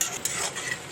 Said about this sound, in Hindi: अब थोड़ा हिलाइए